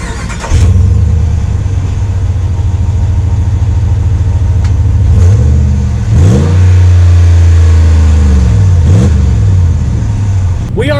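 A 2019 Ram 1500 Laramie Black Edition pickup pulls away, its engine rumbling steadily and rising in several short revving surges as it gets moving, loud and close throughout.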